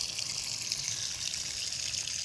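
A strong stream of water from a hose pours steadily onto basil plants in a small backyard garden, making a loud continuous hiss and gush with no voices.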